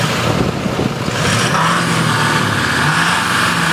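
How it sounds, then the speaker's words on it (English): An engine revs up and holds at a raised pitch, a steady loud mechanical drone close by with no talking. "Want to give it a little rev up. Show you what it what's going on, how it sounds. Listen to the engine."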